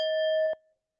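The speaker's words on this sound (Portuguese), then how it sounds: "Agora vai servir meu sino de novo." A single struck bell rings out with a clear sustained tone and bright overtones, then is damped and fades quickly to silence.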